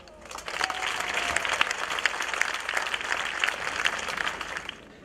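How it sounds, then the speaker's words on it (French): An audience applauds at a contest, greeting the first-prize work: steady, dense clapping from a crowd that rises quickly, holds strong for several seconds, then tapers near the end. "applaudissons le premier prix"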